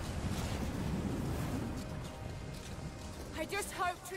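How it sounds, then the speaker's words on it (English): Wind blows in Rise of the Tomb Raider as a broad, steady roar that fades over a few seconds, with a voice starting near the end. "you think it's a bit windy?"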